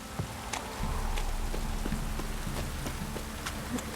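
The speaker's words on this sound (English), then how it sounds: "If it don't stop raining, my arse will rot off" Rain keeps falling in Witcher 3, a dense steady patter on surfaces with soft clip-clop-like knocks and a low rumble beneath, constant throughout.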